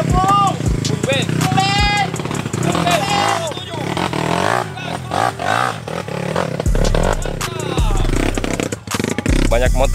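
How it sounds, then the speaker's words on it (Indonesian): Several dirt bikes, a CRF among them, strain up a steep uphill trail on an off-road ride near Makassar, engines revving hard with rising and falling whines, while riders shout and talk over the noise throughout. "Banyak motor yang kerja keras untuk naik di tanjakan ini."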